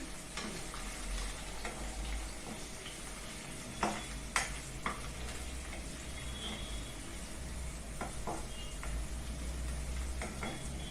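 A spiced tempering of crushed garlic, ginger and green chilli sizzles steadily in a pan while being stirred, a constant frying hiss with occasional scraping clinks of the spoon.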